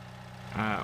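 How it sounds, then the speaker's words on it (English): A JCB Fastrac tractor engine in Farming Simulator 19 idles with a low steady hum, then swells briefly into a louder, rising rev near the end of the short burst. "And then I need to get the JCB tractor out again, the fast track."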